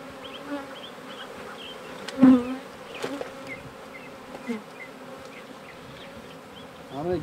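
Honeybees hum in a steady, close drone at an open hive during a beekeeping session. The buzzing stays fairly even, with a few louder passes and faint handling noises.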